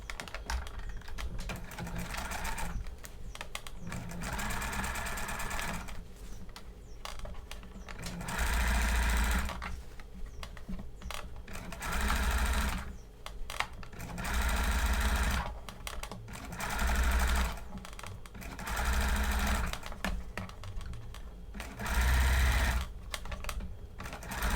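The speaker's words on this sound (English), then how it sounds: "Now that the understitching is complete" A sewing machine understitches a bias band onto a collar in repeated bursts, steady rapid mechanical whirring runs interrupted by short pauses, close and clear with no talking.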